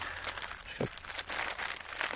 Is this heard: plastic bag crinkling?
yes